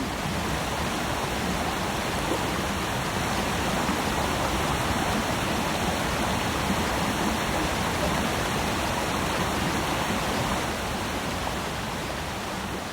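Steady, broadband rush of an Alaskan waterfall where black bears fish, loud and unbroken throughout, with no voices or other sounds over it.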